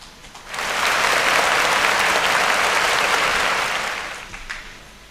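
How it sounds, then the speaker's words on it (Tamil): Audience at a Tamil New Year special debate event bursts into sustained applause, rising quickly, holding as a dense wash of clapping for several seconds, then tapering off with a few scattered claps. "எல்லாருக்கும் சேர்த்து ஒரு கைத்தட்டலை நம்ம கொடுத்துடலாம்"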